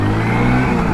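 Hero Passion Plus motorcycle engine pulling away in first gear, a steady, close mid-pitched drone with a rising note over one second, no talk.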